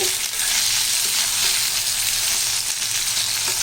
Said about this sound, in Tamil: இந்த எண்ணெயிலேயே இது நல்லா வதங்கி வேகணும்